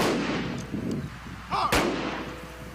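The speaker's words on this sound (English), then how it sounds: "Including a rifle salute." A rifle salute fires at a deputy's police-honors funeral: a sharp, loud volley crack stands out amid quieter outdoor ambience.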